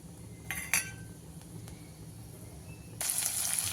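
Whole spices go into hot oil in a pan for a tempering, the first step of a baby jackfruit masala fry. A couple of sharp metal clinks come first, then a bright, steady sizzle rises near the end, with no one talking.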